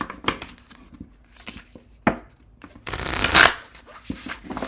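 Tarot cards being shuffled, a series of quick papery riffles and soft slaps in short bursts, with one longer, louder riffling flurry in the middle, close and clear.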